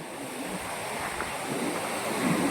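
Water rushes from a single open gate of the Somasila dam on the Penna river, a broad, steady roar of churning flow mixed with wind noise, loud and continuous.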